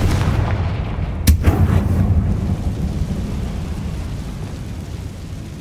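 A Confringo blasting spell explodes in the Hogwarts Legacy game: one sharp, loud boom with a brief crackle, followed by a deep rumbling roar that lingers steadily for several seconds with no talking.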